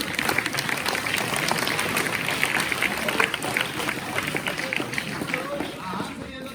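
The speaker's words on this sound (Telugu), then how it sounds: "అది చప్పట్లు కొడుతున్నారు కదా" A crowd at a school claps together, a dense, sustained patter of applause that fades slightly toward the end, with voices mixed in.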